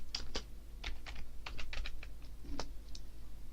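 Rapid keystrokes on a computer keyboard as a terminal command is entered, a quick irregular burst of close, crisp clicks with a brief pause near the end, no voices.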